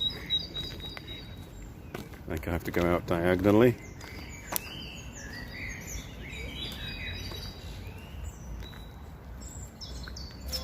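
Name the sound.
parrots calling in Koning Albert Park, Ghent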